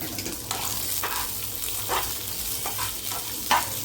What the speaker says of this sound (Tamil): இதோட ஒரு பெரிய வெங்காயம் 2 வெங்காயம் கட் பண்ணி வச்சுருக்கேன், அதையும் போட்டு வதக்கிக்கலாம்